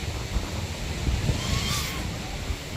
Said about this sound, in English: the wind is blowing too hard now